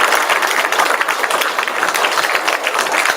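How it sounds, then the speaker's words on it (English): An audience at a Hawaii Fire Department recruit graduation bursts into sustained, loud applause for the training division, a thick, even roar of many hands clapping throughout. "So if you guys could give them a round of applause."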